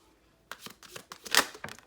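Tarot cards being handled and shuffled, a quick run of soft riffling and flicking close by after a moment of quiet.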